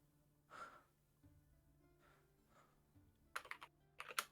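Loud computer keyboard typing comes in two quick clattering bursts near the end, preceded by soft breathing-like noises over a low steady hum.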